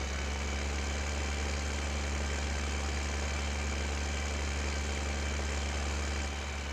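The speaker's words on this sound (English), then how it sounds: "And we'll get our FERT tractor going." Fertilizer tractor engine in Farming Simulator 15 running at a steady idle, a continuous low droning rumble with constant loudness throughout and no voices.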